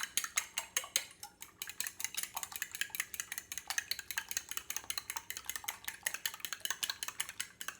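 Two eggs being stirred with a utensil in a bowl for Italian meatballs: a fast, steady run of light clinking scrapes, close and clear, with no talk.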